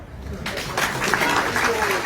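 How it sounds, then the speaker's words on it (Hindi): An audience at an evening Harikatha gathering breaks into clapping after a brief quiet moment, dense applause continuing to the end with some voices mixed in. "अपने लिए ताली बजाओ।"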